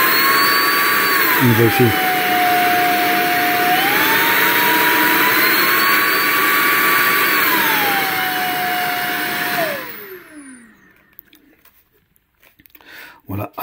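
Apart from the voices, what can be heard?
FABULETTA cordless stick vacuum cleaner running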